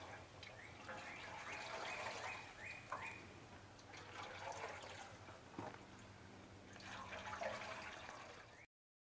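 Acid wash solution sloshes back and forth inside a rusty motorcycle gas tank as it is slowly rocked, faint liquid swishes and drips in repeated waves.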